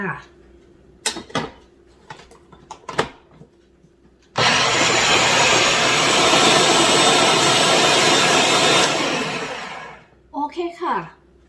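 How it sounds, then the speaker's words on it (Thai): A blender whirs loudly and steadily for about six seconds while mixing thick almond butter for yogurt ice cream, framed by clicks, handling noises and brief talk before and after. "แล้วก็ปั่นต่อค่ะ"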